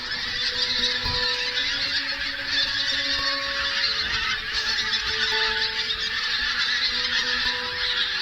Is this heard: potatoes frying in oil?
no